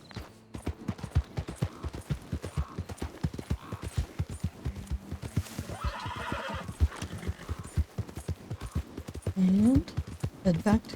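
Horses in Red Dead Redemption 2 trot with rapid, rhythmic clip-clop hoofbeats throughout, a close whinny and snort rising near the end, while someone talks intermittently over the game sound.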